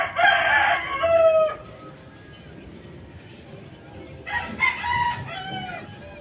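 A Melsims block gamefowl rooster crows loudly and near twice, one call at the start and another about four seconds later. A quieter stretch between the calls carries a faint background murmur.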